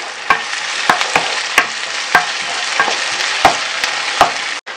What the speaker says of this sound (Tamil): வெங்காயம் பூண்டு கொஞ்சம் நல்லா வதங்கிடுச்சு.